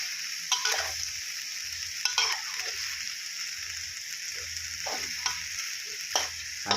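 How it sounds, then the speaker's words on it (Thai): Chicken with curry paste for jungle curry sizzles in a pan, punctuated by repeated scraping stir-fry strokes of a spatula every second or so against a constant frying hiss. "พริกแกงมันเข้าเข้าซึมเข้าไปในเนื้อไก่ครับ ผัดไปเรื่อยๆนะครับ"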